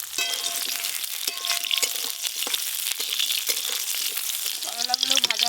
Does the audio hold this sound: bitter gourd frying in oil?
yes